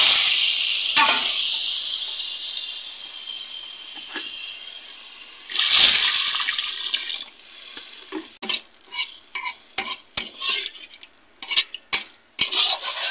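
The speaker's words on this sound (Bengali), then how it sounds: "ডালটা ভালো করে ভেজে নেব। জল দিয়ে দেবো।" Lentils (dal) frying in a pan with turmeric, with water poured in: a steady close hiss and sizzle rises into a louder burst as the water hits, followed by scattered stirring clinks and scrapes against the pot.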